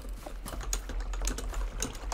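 Quick bursts of clicky keystrokes on a computer keyboard, close and fairly quiet, tapping in an uneven rhythm over a low background hum.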